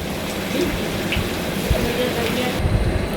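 Steady rain falling outdoors, a dense even patter with scattered drops striking surfaces nearby, moderately loud and continuous, with no voices heard.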